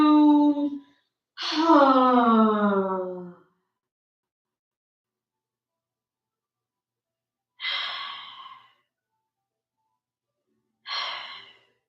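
Slow, audible exhaling breaths during a vinyasa yoga pose, a voiced sighing exhale followed by two softer breathy releases spaced seconds apart, close and alone with silence between.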